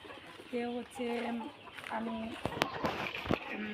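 A hen clucks in short repeated bursts nearby, with a few sharp knocks and rustles in between.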